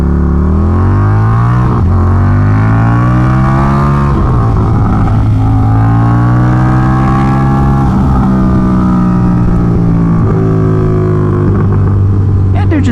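Street motorcycle engine revving hard through third-gear pulls, a loud, close, rising engine tone that climbs in pitch through repeated pulls and shifts, continuous across the whole stretch.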